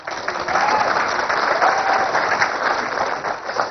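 An audience claps in a dense, sustained round that stays loud and even throughout, with a faint murmur of the crowd underneath.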